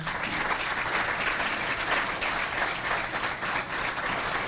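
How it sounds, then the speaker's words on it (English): A large audience at a State of the City event applauds to congratulate Tanya, president and CEO, a thick continuous wash of clapping that stays loud and even from start to finish. "So great round of applause, and congratulations again to Tanya."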